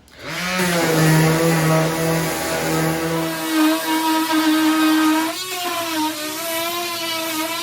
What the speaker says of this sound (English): So I'm going to sand this. I'm just going to use some 80 grit sandpaper.